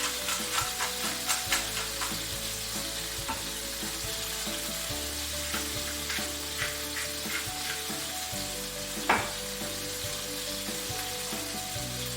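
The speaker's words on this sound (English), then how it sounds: "Let those shrimp sit in there and cook." Shrimp scampi sizzling steadily in a pan with sauce, a continuous close crackle and hiss with a few soft utensil taps, no talking.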